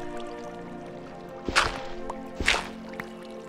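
Flowing water in the Minecraft video game, two short splashing rushes a second apart over a steady background hum, moderately loud and with no talking.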